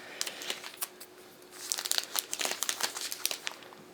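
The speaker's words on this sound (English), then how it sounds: "this is the best part of an unboxing, I think, is unwrapping the actual product" A new 11-inch iPad Pro 2020 being unwrapped from its plastic wrap, a run of close, crisp crinkles and crackles that grows busier and louder partway through, with no talking.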